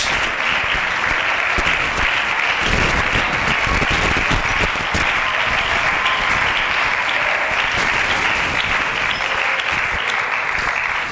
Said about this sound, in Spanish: Aplauda la gloria de Dios.